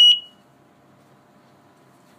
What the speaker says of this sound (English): Now we have activated the alarm, and within 5 seconds you will hear a beeping sound.